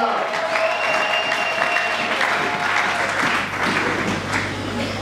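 A church congregation applauding during a worship service in Lubumbashi, a continuous dense clapping from many hands with faint voices and a held tone underneath.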